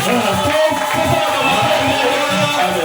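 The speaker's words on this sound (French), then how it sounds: "Faisons du bruit pour Jésus." A congregation in a tabernacle church shouts and cheers for Jesus in a loud, close wash of overlapping voices and cries that lasts the whole brief stretch.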